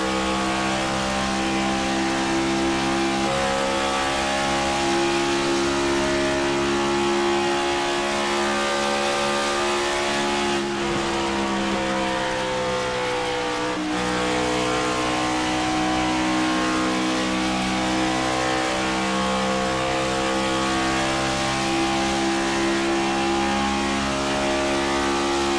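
Race cars howl around Michigan Speedway during the Michigan Rustic Prints 150 in the ZeroX Strategy Series. A loud, steady engine drone holds throughout, with the pitch shifting slightly as cars pass and change gear.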